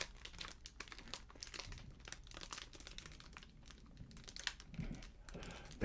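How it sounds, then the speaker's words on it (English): A torn plastic bag is crinkled and crushed by hand up close, producing a quiet, steady stream of crackling rustles with no talking. "I did save the shabby remains of that plastic bag, so I have that."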